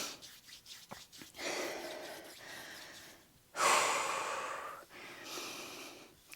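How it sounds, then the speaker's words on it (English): Heavy, rasping breaths close to the microphone during a full-body strength workout: several short huffs, then two long, loud exhalations, with no talking. "I hope my breathing is not too heavy in the microphone."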